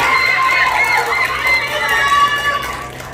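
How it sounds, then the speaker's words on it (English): Supporters at a youth pageant final round cheer in a loud, steady crowd roar with shouting voices, clapping blended into the sustained noise throughout. "How about a big round of applause for that?"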